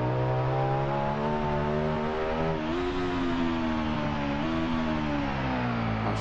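Sustained engine drone from a 2001 Honda VTR SP1 motorcycle in the racing game Ride 2, full power, holding a steady harmonic tone with slight pitch dips and rises as it runs, continuous and loud with no talk.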